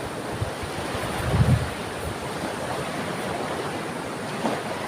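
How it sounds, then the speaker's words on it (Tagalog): Sea waves rolling in at Laboo Beach, a steady broad wash of surf with a couple of slightly louder swells, heard from close by with wind on the microphone and no talking. "Magandang dagat namin dito, oh. Refreshing ang dagat."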